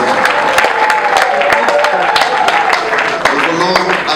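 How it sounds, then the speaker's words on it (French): Dense crowd applause with cheering at a worship gathering, steady and loud throughout with sharp claps cutting through, voices mixed in. "nous acclamons très très fort le Seigneur notre Dieu"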